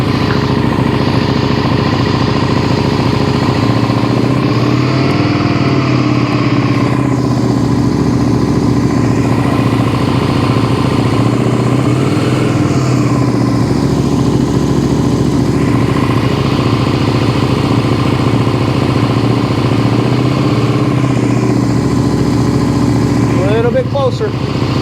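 A Suzuki SV650 motorcycle engine runs on only one cylinder, a loud, steady, uneven idle heard up close for the whole stretch, with a brief mechanical whine near the end.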